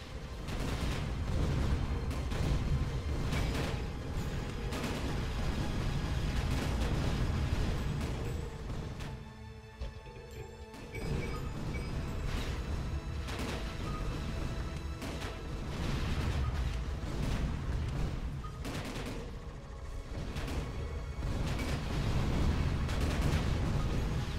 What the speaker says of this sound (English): Big scary turrets.